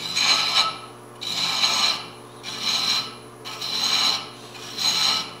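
Thread chaser cutting a thread into a turned wooden box on a woodturning lathe, a rhythmic rasping scrape in five even passes, each about a second long with short pauses between, close and clear over a low motor hum.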